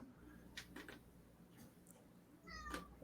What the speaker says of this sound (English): I forgot there was a cat in here.